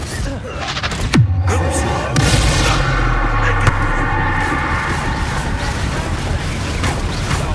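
A Confringo blasting spell explodes in the Hogwarts Legacy video game, a loud booming blast with a sharp crack and a long rumbling tail, heard amid other combat effects and shouted voices.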